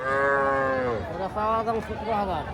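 A young calf moos loudly and repeatedly at a busy cattle market, with long drawn-out calls close by and faint crowd chatter behind.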